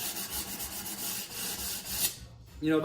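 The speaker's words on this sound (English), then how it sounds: "So I just take a piece of 150 sandpaper and do it by hand" Wood edges hand-sanded with a sheet of 150-grit sandpaper on a Shaker door: steady, close rhythmic rubbing strokes for about two seconds, then a brief pause and a short final scrape.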